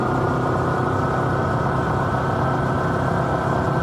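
Honda Super Cub motorcycle engines of about 8 horsepower run steadily on an Ozarks road trip, a dense, even low rumble mixed with rushing wind that holds at a constant loudness throughout.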